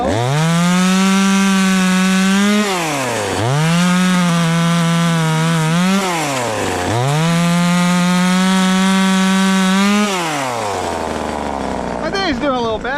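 A cheap $80 chainsaw cuts through wood, its loud, close engine snarling in long sustained bursts that sag and recover as the chain bites, with a short pause between cuts and the motor winding down at the end.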